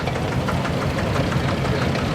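A vintage single-cylinder diesel tractor with its original all-weather cab runs in the show ring at the Great Dorset Steam Fair, giving off a loud, close, steady knocking thump with no voices.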